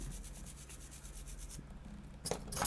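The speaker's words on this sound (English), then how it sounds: "Let's get a little cleanup sanding right in here." Gentle cleanup sanding on a plastic SD Gundam model kit part, faint steady rubbing strokes in an even rhythm, close and quiet, followed by a few louder scraping rubs near the end.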